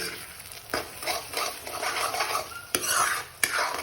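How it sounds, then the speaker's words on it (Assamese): Cashews and butter stirred in a frying pan, with steady scraping and clinking of a spoon against metal and a soft sizzle underneath, close and fairly quiet. "এইখিনি এতিয়া আমি ভালদৰে ফ্ৰাই কৰি ল'ম"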